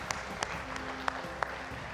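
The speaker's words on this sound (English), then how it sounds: "Can you give these guys a round of applause, please?" A conference audience applauds, giving a quiet, steady patter of clapping with a few sharper claps standing out, and no talk over it.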